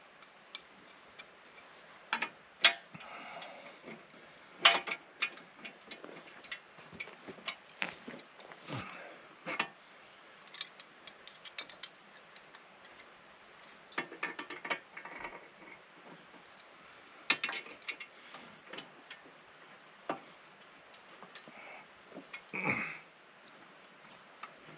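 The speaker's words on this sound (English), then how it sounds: "I'm just going to use Mr. Trusty adjustable and a pair of channel lock pliers" An adjustable wrench and channel lock pliers working bolts on the thumb of a John Deere 270B backhoe, giving intermittent close metallic clicks, ratcheting ticks and clanks in irregular bursts over a quiet background.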